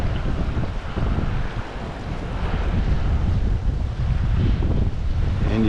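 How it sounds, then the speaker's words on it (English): Gusty wind roars through a canyon at a cutthroat trout fishing spot, buffeting the microphone with loud, continuous rumbling that swells and eases without pause. "It's kind of a gusty wind through this canyon."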